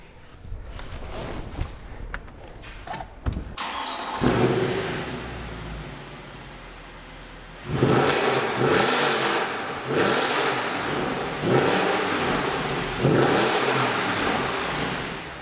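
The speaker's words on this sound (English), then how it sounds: "rev the engine, let you guys get a taste of what it sounds like" A 2012 Mercedes-Benz C63 AMG engine idles, then revs hard several times in quick bursts, each roar rising and falling back, loud and close.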